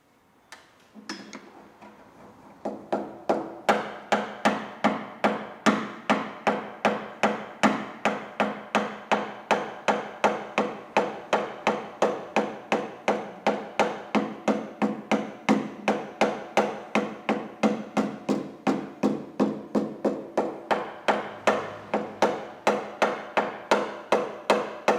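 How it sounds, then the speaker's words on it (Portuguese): Hammer tapping out dents in a car body panel, a long steady run of rapid, evenly spaced metallic taps, close and fairly loud, after a few scattered knocks at the start. "estou preferindo usar o martelo"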